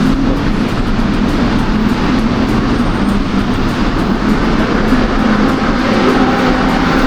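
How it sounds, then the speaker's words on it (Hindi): Road traffic streams along a rain-wet street in Bangkok, a loud, continuous wash of engine rumble and tyre noise with no pauses and no voices. "बारिश थोड़ी बंद हो गई है लेकिन ट्रैफिक का हालत देखो,"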